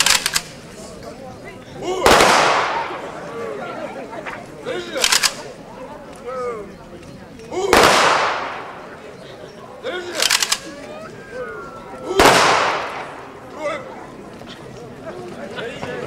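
Festive salute fireworks for a Victory Day commemoration, the 68th anniversary of victory in the Second World War: four loud booming bursts, each followed by a crackling tail, spaced several seconds apart over a murmuring crowd.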